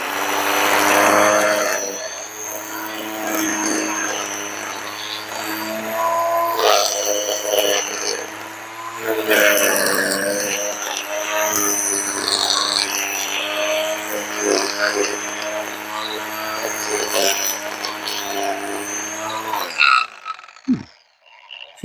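Black + Decker LST-522 20V electric string trimmer edging with its small guide wheel, a steady whining motor drone with harmonic hum running for about twenty seconds, fairly loud and close, then cutting off near the end.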